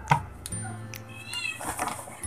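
A cat meows a few times in short, close calls indoors, with faint household sounds between them and no speech.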